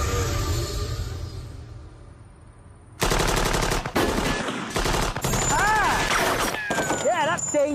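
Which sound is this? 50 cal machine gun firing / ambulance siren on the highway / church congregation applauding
50 cal machine gun firing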